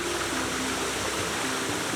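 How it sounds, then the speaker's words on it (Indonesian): Water from a village waterfall in Indonesia splashes down in a constant, dense roar, even and unbroken from start to finish, with a faint tonal hum beneath and no voices. "Suara gemercik air yang jatuh menambah kesan alami."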